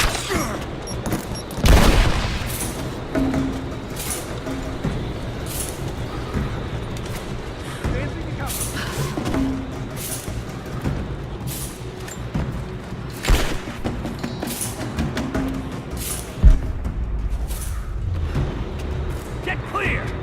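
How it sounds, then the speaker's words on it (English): Grenades and gunfire in Rise of the Tomb Raider's Baba Yaga: The Temple of the Witch, with repeated booms and sharp blasts scattered through continuous combat noise, while voices shout over the fighting. "Throwing a grenade!"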